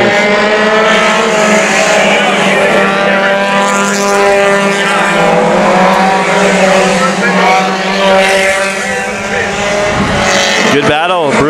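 Mini stock race cars roar around Havasu 95 Speedway, loud layered engine whine rising and falling as the pack passes close, with a commentator talking over it.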